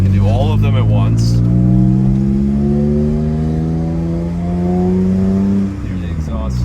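A BMW E46 M3 Cabriolet with the S54 engine drives along, its exhaust a steady droning hum that rises and falls in pitch with gear changes, loud and close throughout.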